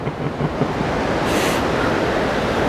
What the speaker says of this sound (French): Là, il y a des vagues, je vous montre parce qu'il y a des vagues.